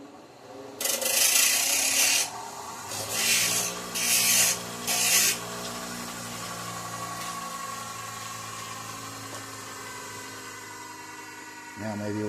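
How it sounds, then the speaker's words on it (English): A grinder works on a bicycle part in bursts: a long harsh grind, then three or four shorter passes, close and loud, followed by a lingering hum and faint background noise. "I'm going to hit this with on the grinder a little bit."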